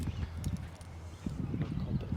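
A 22-month-old Nukra horse at a stud farm walks with steady, muted hoof thuds on the ground. Voices talk over the hoofbeats throughout.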